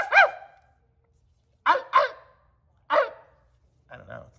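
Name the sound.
person imitating a dog bark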